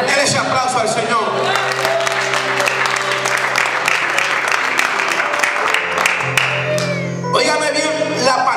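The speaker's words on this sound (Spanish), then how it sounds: "Denle ese aplauso al Señor." A church congregation breaks into loud applause and cheering, with shouts and whoops over sustained organ or keyboard chords, the clapping swelling and continuing throughout.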